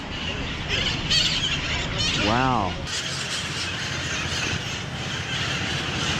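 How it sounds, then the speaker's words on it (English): Birds in a San Francisco park near Chinatown chirp busily, with a loud rising-and-falling call standing out, all over a steady roar of city noise while a person speaks briefly. "Listen to that. Those birds are going nuts."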